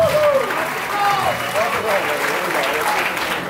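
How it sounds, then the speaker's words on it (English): Audience applause at an elementary school 80s rock show, a loud, steady crowd of clapping that carries on throughout, with voices and a high tone sliding through the noise. "So I want one more round of applause for Mr."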